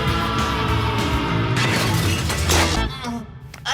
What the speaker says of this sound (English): Oh, they smashed your remote.